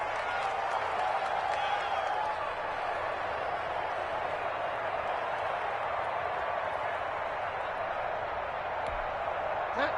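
A stadium crowd in a PS4 football video game keeps up a steady, distant roar and applause, while a commentator talks over it.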